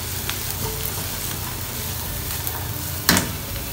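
Mushrooms and carrot stir-frying in a pan for Japanese fried rice, a steady moderate sizzle with light scraping and one sharp clatter near the end, no voices.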